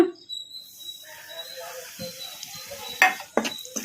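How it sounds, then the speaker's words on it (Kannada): Ground coriander, turmeric, chili powder and garam masala frying in oil on a low flame give a faint, crackling sizzle, broken by a few sharp scraping stirs of a spoon near the end. "ಈಗ ಇವನ್ನೆಲ್ಲ ಎಣ್ಣೆಗೆ ಹಾಕಿ ಫ್ರೈ ಮಾಡ್ಕೊಂಬಿಡೋಣ"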